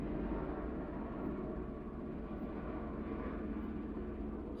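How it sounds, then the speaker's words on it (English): A low, continuous rumbling drone of a helicopter passing overhead, steady and fairly loud with a deep throbbing hum and no voices. "that's a really loud helicopter"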